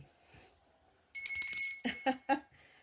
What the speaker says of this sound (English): Something told me to ring the bell.